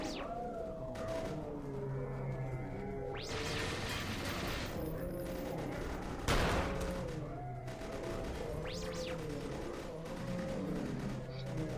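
Turret gunfire in the shooter game EYE Divine Cybermancy, short bursts of shots with mechanical clatter and a sharp louder blast midway, set against a steady layer of game ambience and tonal effects.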